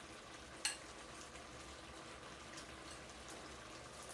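A Moroccan stew of tomatoes and apricots in broth bubbles and sizzles faintly in a pot, with one brief utensil clink early on and no talk.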